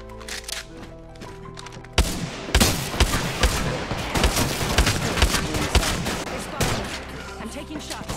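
Dense rapid gunfire from an Apex Legends firefight, with bursts and single shots crowding together, loud and close, after a quieter opening stretch.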